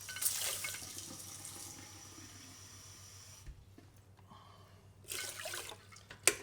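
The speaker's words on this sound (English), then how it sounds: "So I've got half a cup of rice in here, and we're just going to do about a cup of water." Faint splashing of water pouring into a rice cooker over half a cup of rice, in two short bursts separated by a quiet pause, close by.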